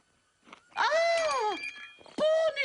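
A cartoon cat lets out loud, drawn-out yowls, a short cry followed by a long wavering wail and then another sharp yowl, heard close and clear in a Slovenian-dubbed animated pony show.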